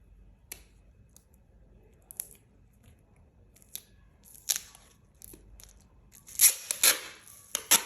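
Scissors cutting a homemade paper sticker with a layer of sellotape on it, a few sparse snips spread apart, then a quicker cluster of crisp close cuts near the end.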